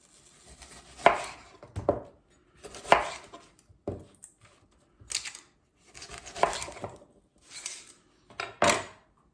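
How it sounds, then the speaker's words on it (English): A knife dices onions on a chopping board in a home kitchen. Quick close-up chops come in short rhythmic clusters separated by brief pauses. "let's dice some onions"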